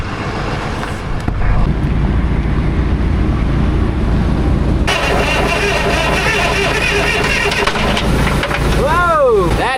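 A 1981 Kenworth truck engine straining and seizing up, its loud rough running giving way to an abrupt harsh change in tone and rising mechanical whine, with voices talking over it.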